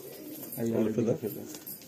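A breeder's pigeon in a loft gives a short, soft coo at close range, a brief rounded burst with a faint background hum.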